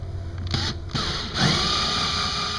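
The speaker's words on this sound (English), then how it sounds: "we'll go to a 20mm hole saw" A power drill spinning a 20mm hole saw while cutting holes during a fog light install on a Honda Element, whining in short bursts, then a steadier loaded grinding tone, up close.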